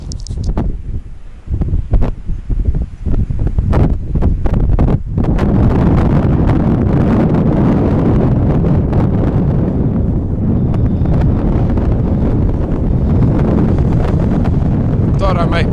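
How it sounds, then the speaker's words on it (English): Strong wind roars and buffets the microphone continuously, a loud rumbling rush with a few thumps early on. "it's way too windy as usual"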